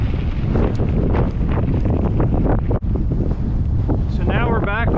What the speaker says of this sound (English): fight that south wind.